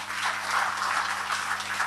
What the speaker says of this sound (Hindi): तो इनके लिए जोरदार तालियां।